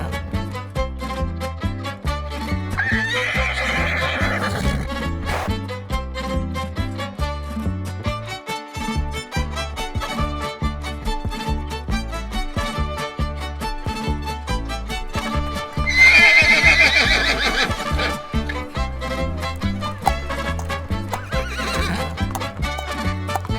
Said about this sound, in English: Horses are strong and beautiful animals.